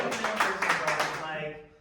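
Live audience applause in a studio for an in-person NBA preview show, a dense patter of many hands clapping steadily for under two seconds before tapering off.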